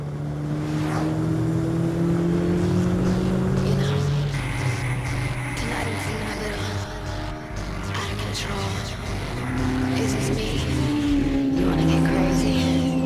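A race car with a sequential 5-speed gearbox drives on a circuit, its engine droning steadily and loud throughout, pitch rising and falling with gear changes and revs, with no talk.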